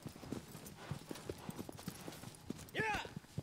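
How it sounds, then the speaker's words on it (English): Horse hooves clip-clop in a steady galloping rhythm in the video game Shadow of the Colossus, with a horse whinnying briefly near the end. "who needs a horse? Well, I do, because otherwise, I can't really run to where the Colossus is."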